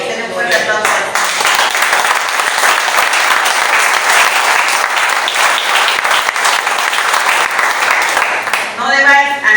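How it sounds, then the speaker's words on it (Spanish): A church congregation bursts into loud, sustained applause during a Spanish-language sermon, with dense clapping filling the space close up and a voice heard briefly at the start and end. "Denle un fuerte aplauso."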